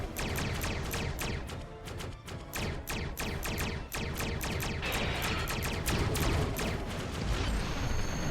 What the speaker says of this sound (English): God, I love the sound of the Discovery era phasers.